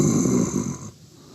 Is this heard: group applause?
no